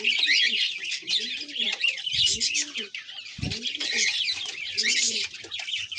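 Madrasi highflyer pigeons in a Kolkata loft give repeated low, rolling coos beneath a continuous wash of bright, high chirping from many birds.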